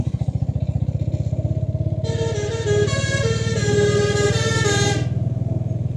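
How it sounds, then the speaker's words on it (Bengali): A Haldia–Kolkata route bus on the road sounds a loud, musical multi-tone horn for about three seconds over a steady, close, rumbling engine idle. "বাসের হর্নটা বেশ সুন্দর না"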